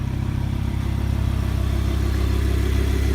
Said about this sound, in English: Very impressive engine.